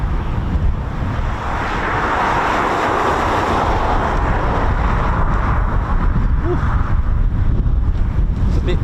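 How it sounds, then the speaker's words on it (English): Wind blowing across an RAF airfield and buffeting the microphone, a loud, continuous broadband rush with gusty swells. "It's a bit breezy here."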